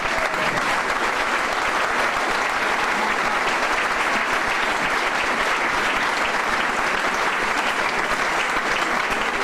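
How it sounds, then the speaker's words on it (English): Sustained audience applause for a football figure's on-stage tribute evening, dense even clapping from a large crowd filling the room for several seconds without a break. "I would like a big hand of applause for them, please"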